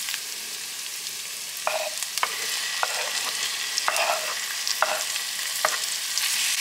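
Goat kidney sautés with onion and garlic in a pan, a bright constant sizzle broken by sharp spoon scrapes and taps every second or so, close and loud, with no voices.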